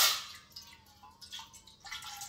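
Water trickling and dripping into a heavy pan in a home kitchen, a quiet splashy pour with small uneven drips, close and faint, with no voices.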